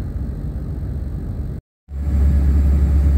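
A Duramax 6.6L diesel truck engine idles with a loud, steady rumble close by. After a brief gap the engine returns as a deeper, fuller drone as the elevated idle drops back.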